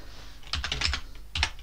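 Keys clatter on a computer keyboard as a short word is typed, a quick cluster of close, crisp clicks followed by a single press a moment later, with no talking.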